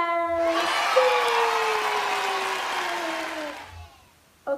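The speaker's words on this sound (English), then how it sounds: "Give applause to Jesus!" Applause during an online children's church service: a steady broadband wash of clapping fills most of the span over a held tone that glides slowly downward, then fades out before a brief closing sound.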